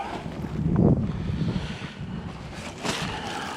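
Cold wind gusting outdoors around a beehive, heard as a steady rumbling rush of wind buffeting the microphone, swelling and easing in loudness, with no voices.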